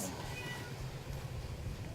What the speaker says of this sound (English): apologies if my cat is loud, I don't know why she's yelling